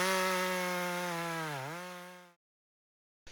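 A Husqvarna 564 XP chainsaw engine drones at high revs with a strong buzzing tone, dips briefly in pitch midway, then cuts off abruptly into silence, followed by a short clunk.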